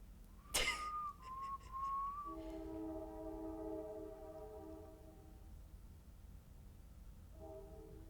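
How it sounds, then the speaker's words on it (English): A sharp clang is followed by a long wavering whistle, then sustained multi-tone train horn blasts that fade and return briefly, somewhat distant. "train. Train."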